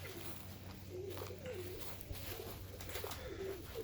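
Birmingham Roller pigeons cooing in a loft, repeated soft throaty coos at a moderate distance over a steady low background hum.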